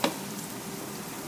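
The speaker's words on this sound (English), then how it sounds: "we're making what's called a blonde roux" Butter and flour cook together in a pan as a blonde roux, giving a soft, steady sizzle that stays faint and even throughout, with no voices.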